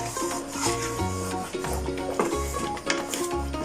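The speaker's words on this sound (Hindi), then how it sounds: "मसाले को हमने बहुत अच्छी तरह भूनना है" Masala for chicken kofta curry is stir-fried in a pan over medium-high heat, giving a steady scraping, rubbing sizzle as a spoon works it around. Faint background music plays underneath.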